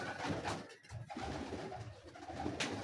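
Domestic pigeons at a home loft cooing softly, low repeated murmuring calls close by with a faint rustle in the background and no talking.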